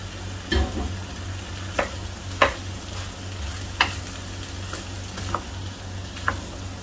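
Chana chaat with about a cup of chutney being stirred in a pan, the spoon scraping in a few separate soft strokes over a low steady hum, with no one talking.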